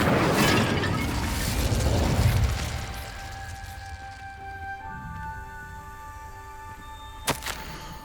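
Incendio fire spell cast in Hogwarts Legacy: a loud fiery burst and roaring whoosh that fades over a few seconds, followed by ringing tonal chimes and a sharp click near the end.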